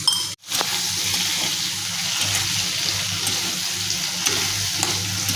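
Green chilli, ginger paste and cumin powder sauté in a pan with a loud, steady sizzle and hiss, opening with a brief clatter and continuing evenly with no voices.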